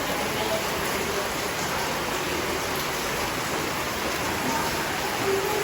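Heavy rain falls steadily, a loud continuous rushing hiss of drops pounding on surfaces, with no voices.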